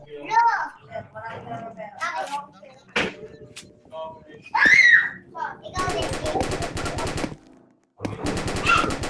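Gunfire in a Roblox game, including bursts of rapid machine-gun-like shots in the second half, mixed with children talking and shouting throughout.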